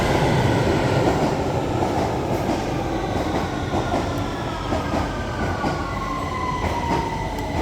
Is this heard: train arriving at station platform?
yes